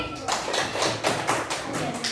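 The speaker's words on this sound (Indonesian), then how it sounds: "Beri tepuk tangan untuk Mas Kenzi." Classroom applause for a student after a group presentation: a dense run of hand claps, steady and fairly close for about two seconds, with no talk over it.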